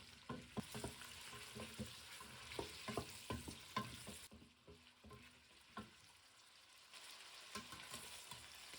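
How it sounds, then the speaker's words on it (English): Vegetables fry in coconut oil in a pot for a coconut chicken curry, giving a faint, steady sizzle with frequent light clicks and scrapes from stirring and a brief lull midway, without speech. "Next, I'm going to go in with my vegetable, fry it for about 3 minutes"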